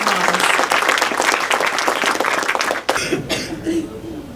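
An audience at a formal session gives a warm round of applause, with loud close clapping that holds, then breaks up and fades, with a cough or two near the end.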